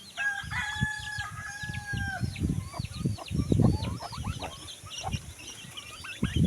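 Several turkeys gobble and cluck nearby in an outdoor yard, with overlapping calls and faint background noise.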